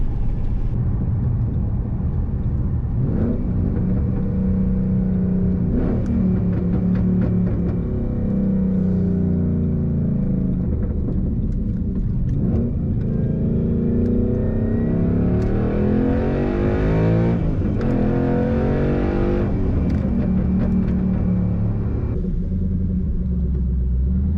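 A 2012 Ford Mustang Boss 302 drives along with a steady, loud engine rumble, rising and falling with acceleration and revs throughout, close inside the car, no speech.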